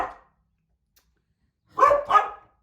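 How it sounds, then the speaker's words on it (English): A dog barks twice in quick succession after a brief faint sound at the start, the barks close and fairly loud against an otherwise quiet room. "The dog is barking at the cat."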